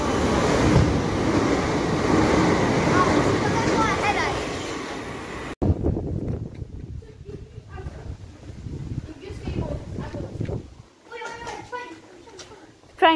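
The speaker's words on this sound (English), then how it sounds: "Train passing." Train rushing through Bickley station, a broad loud roar filling the first five seconds before cutting off, followed by quieter surroundings where people talk and chatter nearby.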